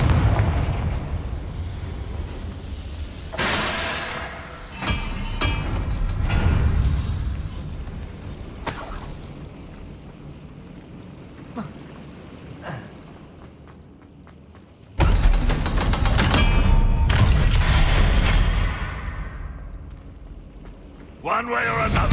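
Confringo blasting spell explosions in the Hogwarts Legacy video game, several loud booming blasts with rumbling debris, one big burst near the end, mixed with game effects and occasional voices.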